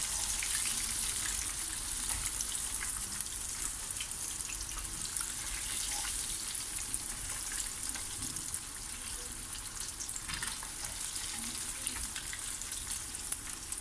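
Turmeric-seasoned mullet fish frying in sunflower oil, a steady, close sizzling hiss that continues without a break, fairly quiet and with no talking.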